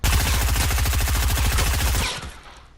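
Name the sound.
blue SMG rapid gunfire in the video game Fortnite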